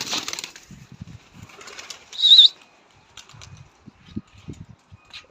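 Pigeons flap their wings in a brief loud burst, with soft scattered rustles and faint low coos around it in a quiet setting.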